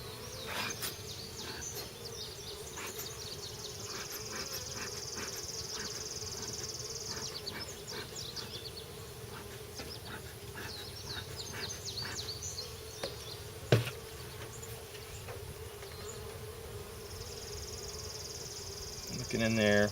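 Honey bees buzz steadily around an open hive during an inspection, a dense continuous drone close by, with a brief knock partway through.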